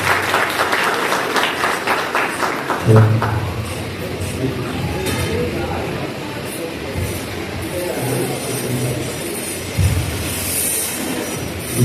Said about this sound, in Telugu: అందరూ చప్పట్లు కొట్టి జ్ఞాపకం చేయండి.